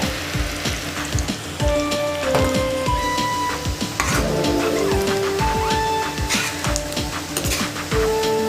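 Onion pakodi batter frying in hot oil on a rainy day, loud crackling sizzle with scattered clinks and scraping of a utensil against the pan, alone without talk.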